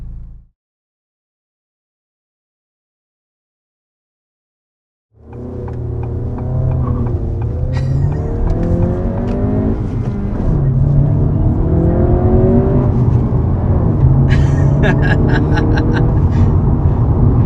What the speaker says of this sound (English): Got a little bit of tire spin there at the beginning.